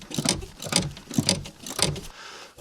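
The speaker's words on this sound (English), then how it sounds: "now we will remove those screws here" A ratchet tool loosens seat screws inside a Land Rover Discovery 4, making four quick, close bursts of clicking with short pauses between them.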